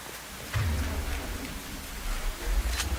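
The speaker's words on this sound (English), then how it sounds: "I love the rain and the thunder, but it's kind of creepy." Steady, heavy rainfall with low rumbling thunder rolls in the Mass Effect 2 video game, a dense hiss over deep booms that swell partway through, close and loud, with no talking.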